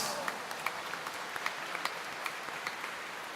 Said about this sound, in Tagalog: Kaya lahat nga ng umaasa kay Jesus Nazareno, pumalakpak ng malakas.